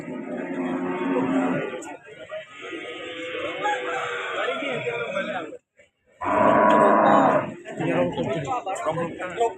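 Cattle moo repeatedly at the Tertek Pare livestock market in Kediri, close and loud, with chickens and a rooster crowing in the busy background and people talking throughout.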